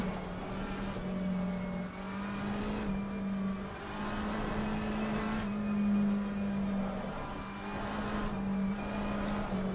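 A racing car in a sim racing game drones with a steady engine tone that rises and dips, overlaid with a faint hiss of tyre scrub through corners, continuous and moderately loud with no talking.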